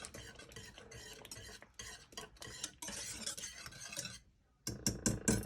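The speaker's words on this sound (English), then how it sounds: "So let's just do this here and stir this up." Apple cider pumpkin spice grits being stirred in a pot, a spoon scraping and clinking in quick repeated strokes, close and fairly soft, with a short pause before the stirring resumes.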